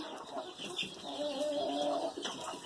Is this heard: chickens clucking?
yes